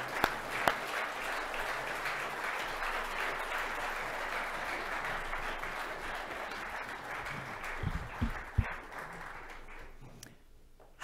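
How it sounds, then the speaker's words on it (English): Sustained applause from an audience at a 2019 high school Female Athlete of the Year awards ceremony in Michigan, steady and dense for about eight seconds before thinning out into scattered claps and fading. "How about just one more round of applause for these amazing young ladies?"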